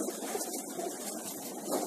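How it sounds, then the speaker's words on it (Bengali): Giribaz pigeons coo softly in a loft, faint low murmuring calls over a steady background hum, with no talk. "এখানে যে কবুতরগুলো দেখতে পাচ্ছেন দর্শক, সবই গ্রিবাস কবুতর"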